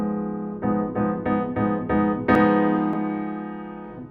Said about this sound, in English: A minor 7th with a flatted 5th, sometimes called a half-diminished